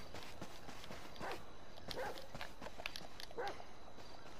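A dog in the video game GTA 5 on PS4 gives a few faint, spaced barks that are partly buried under steady background noise from the game.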